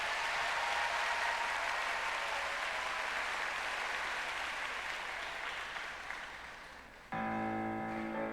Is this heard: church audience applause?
yes